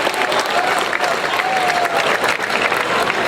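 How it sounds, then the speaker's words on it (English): An audience at a solar celebration with a mayor applauds the schools for accepting a challenge, giving a short burst of thick, continuous clapping at close, even volume. "So give yourselves a round of applause for accepting the challenge."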